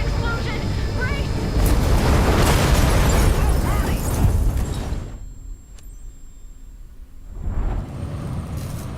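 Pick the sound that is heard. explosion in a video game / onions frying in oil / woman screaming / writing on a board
explosion in a video game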